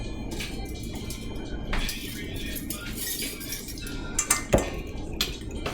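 A tablespoon clinks against dishes and cutlery in a test kitchen while sugar is measured out. The clinks are light and scattered, with a few sharper knocks near the end and no talk.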